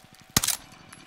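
A single sharp gunshot crack rings out in Call of Duty Warzone on the Caldera map near the South Power Plant, loud and brief with a short rattling tail over a faint pulsing background.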